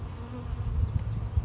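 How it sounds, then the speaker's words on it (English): A dense, low drone of many honeybees buzzing together inside an open hive, close and continuous, with no voices. "there's a ton of bees in here,"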